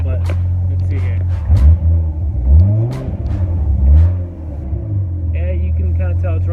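A Mazda RX-7 swapped with a 1JZ engine runs after a spark plug change, a steady low idle with a few revs rising and falling, close and loud, with a voice talking over it.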